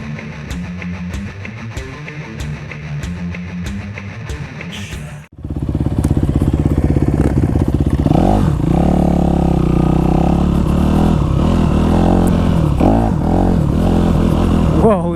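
A Honda CRF450 dirt bike plays first as a brief, quieter stretch, then comes in loud and close with a rough, throbbing engine that revs and surges continuously.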